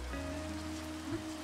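Steady rain falls in a Minecraft game world, a continuous soft wash with no speech over it.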